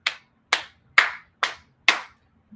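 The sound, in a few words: audience applause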